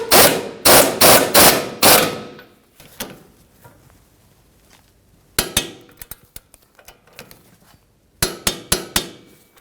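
Tightening the rear shock mounting bolt on a 2013-2015 Chevy Malibu, several loud rattling bursts of rapid tool impacts separated by quieter clicks and pauses.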